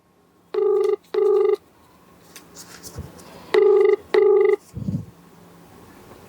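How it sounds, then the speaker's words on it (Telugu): A telephone rings in two pairs of short, bright double bursts separated by a pause, fairly close and clear, followed by a brief low thud. "చూడాలి రింగ్ అవుతోంది"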